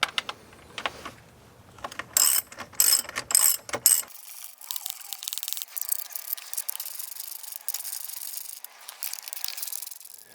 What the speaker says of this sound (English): we're going to loosen up the bolts here with a 9/16 socket.